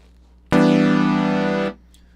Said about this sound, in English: Oscillator 1 sounds like this.